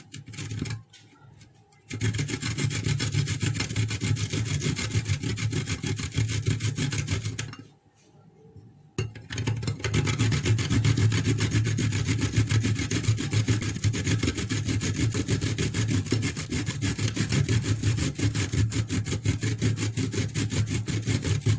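A vegetable, beetroot, is grated by hand. Steady, dense rasping strokes run continuously and close, stopping briefly twice, with no talk.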